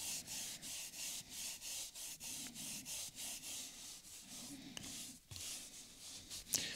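Cloth or brush gently rubbing a leather steering wheel during cleaning of a well-worn car interior, soft repetitive scrubbing strokes in a steady back-and-forth rhythm, close and quiet.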